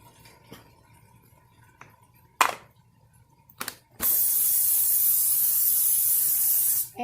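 Cooking spray greasing a 13 by 9 inch baking pan for chili, a few short puffs and then a long, loud continuous hiss lasting about three seconds, close by.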